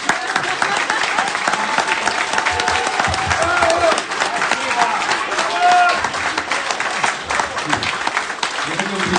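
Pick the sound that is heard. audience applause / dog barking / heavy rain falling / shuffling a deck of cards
audience applause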